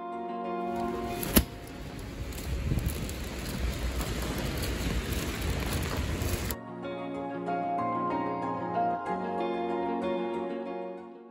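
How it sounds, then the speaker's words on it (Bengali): Heavy rain pours outside as a dense, steady roar for about six seconds, then stops abruptly and gives way to music. "বাইরে প্রচণ্ড বৃষ্টি শুরু হয়ে গেছে"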